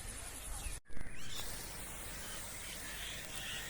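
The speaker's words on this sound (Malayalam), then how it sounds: "ഇത് ജസ്റ്റ് ഒന്ന് നമുക്ക് ഇലയിലോട്ട് സ്പ്രേ ആയാൽ മതി" A sprayer applying weed-killer onto grass leaves gives a continuous, fairly quiet hiss that breaks off for a moment, then resumes steadily.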